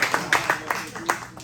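A small group at a club meeting gives a brief, sparse round of applause, a handful of scattered claps heard close over a quiet room.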